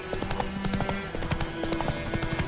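Geralt's horse Roach trots in The Witcher 3: Wild Hunt next-gen on PS5, hooves clip-clopping in a steady, continuous rhythm over a sustained tonal backdrop, with no speech.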